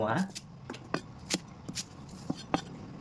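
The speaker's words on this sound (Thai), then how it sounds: "เริ่มจากการหั่นเครื่องต้มยำก่อนเลย" Knife chopping tom yum herbs such as lemongrass, galangal, shallots and kaffir lime leaves on a cutting board, a series of about eight sharp, close taps at an uneven pace over low room noise.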